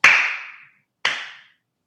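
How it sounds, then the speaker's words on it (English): Two slow, sharp hand claps about a second apart, close and crisp with short ringing decay, and nothing between them. "I'm going to slow clap for him"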